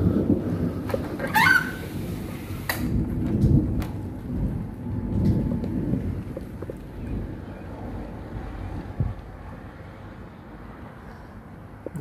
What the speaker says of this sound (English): And you can see it's starting to rain on the ground.